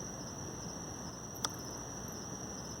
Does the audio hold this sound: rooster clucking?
no